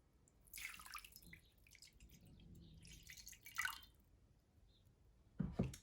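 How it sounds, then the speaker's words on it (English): Water poured into a container for a paper towel art activity, heard as faint, intermittent trickles and splashes with small drips, close by in a quiet room, ending in a louder splash. "Carefully going to pour the water in."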